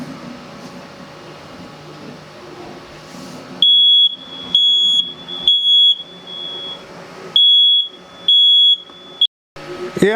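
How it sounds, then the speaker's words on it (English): A smoke detector sounds in a sublimation workshop where a custom boat flag is being made, sending loud, piercing high beeps in irregular bursts of about a second each, broken by short gaps, over a low background hum. "Yep, sometimes that's off the smoke detector."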